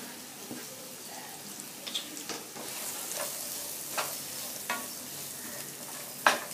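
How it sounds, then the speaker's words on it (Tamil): Cut raw mango pieces tossed with salt and asafoetida for a mango pickle, giving soft continuous scraping and rustling with a few sharp clicks near the end, close by and fairly quiet, with no talking. "இந்த மேங்கோ போட்டு எல்லாத்தையும் மிக்ஸ் பண்ணணும்."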